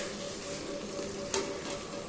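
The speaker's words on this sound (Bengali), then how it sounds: "এই ডিমটা এবার ভালো করে ভেজে নেব" Eggs frying in a pan alongside carrot, capsicum and onion, giving a steady, even sizzle close by, with one brief scrape of a utensil partway through and no voices.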